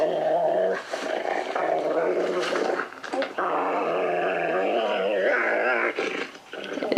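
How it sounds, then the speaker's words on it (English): A wolf growling in pain during a scuffle with a person, a loud, close, continuous rasping growl with brief breaks and whimpering tones. "That is the growl of an animal in pain, not of one that is, killing someone or in aggression."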